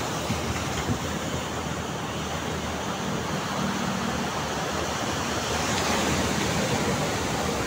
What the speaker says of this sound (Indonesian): suaranya menderu teman-teman kalau namanya dekat pantai ini ya, ombaknya ya